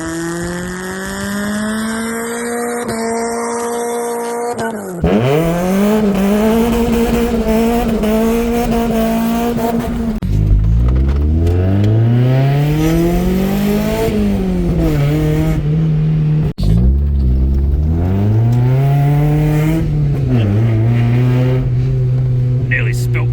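A 1994 Mazda MX-5 Miata revs and pulls through repeated gear changes, each run climbing in pitch before dropping back, loud and close for the whole stretch with brief tyre squeal, while a voice talks over it.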